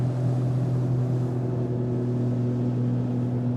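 A boat engine drones steadily on Lake Huron, a constant low hum with a whooshing wash of wind and water that stays even and unbroken throughout.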